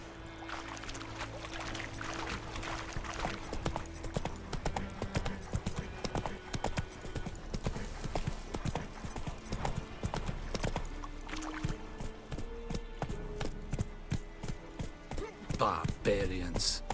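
Roach's hooves clip-clopping in The Witcher 3 as Geralt rides, a long steady trotting beat under game sounds, with a flowing water-like wash and a brief whinny near the end.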